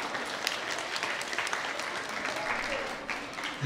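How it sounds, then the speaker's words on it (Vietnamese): Audience applause at a Vietnamese temple vegetarian fundraising banquet and variety show in Arizona, a steady even patter of many hands clapping throughout. "Một tràng pháo tay nữa để dành cho chúng ta đi ạ."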